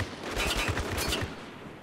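Rapid bursts of gunfire in the multiplayer shooter Spec Ops: The Line, a dense volley of shots striking a player, loud and close, clustered in the first second and a quarter before easing off.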